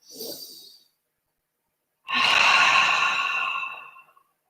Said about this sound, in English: Huge breath in and out.